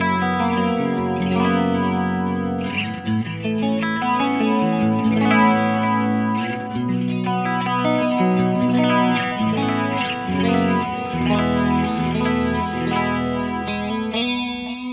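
Clean electric guitar played through a Driftwood Purple Nightmare amp with effects switched on, ringing chords and notes washed in chorus and echo, steady and sustained throughout with no talking.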